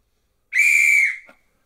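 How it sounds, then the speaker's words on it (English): A single shrill whistle blast on a TV panel show, sharp and steady, lasting under a second before cutting off, with nothing else around it. "Here's the whistle."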